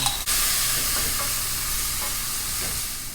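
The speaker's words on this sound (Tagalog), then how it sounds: "igisa na po natin ang ating sibuyas at lagyan po natin ang katitik na luya" Onion and ginger sautéing in a pan, a steady close sizzle with light stirring scrapes and a small knock at the start, no talking.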